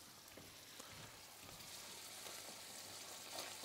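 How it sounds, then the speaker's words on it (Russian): Sliced potatoes frying in oil in a pan, with more oil just added: a soft, steady sizzle and crackle that stays faint and even throughout. "Сейчас я добавлю немножко еще масла в сковородку все-таки, чтобы масло хорошо контактировало с картошкой."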